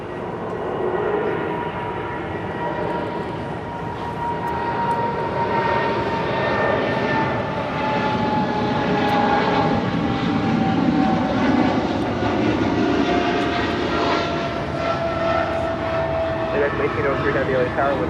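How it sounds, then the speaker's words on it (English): DHL Boeing 777 freighter operated by Polar Air Cargo departing LAX, a steady distant jet roar swelling and fading slowly with a faint falling whine, heard from outside at the airport. "That was DHL, operated by Polar Air Cargo, Flight 962, departing to Cincinnati on a 777 freighter"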